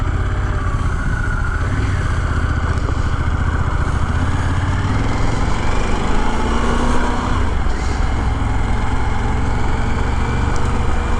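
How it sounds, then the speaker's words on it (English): Heavy Harley-Davidson Pan America adventure motorcycle ridden off-road through sand, its engine droning loud and steady throughout with a continuous low rumble and rough surface noise, no voices. "With sand, this is a heavy bike, but it has the power to go through it just like you would on a normal dirt bike."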